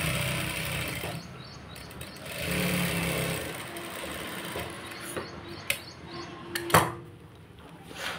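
A sewing machine stitches across strips of fabric cut at 1.5 and 3.5 inches, giving a steady close whir with a few brief clicks and taps near the end.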